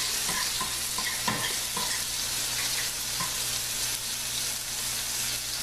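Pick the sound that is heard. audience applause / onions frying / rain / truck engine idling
onions frying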